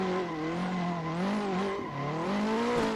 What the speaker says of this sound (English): it's nice to be able to hear my engine and my turbo being spooled up or not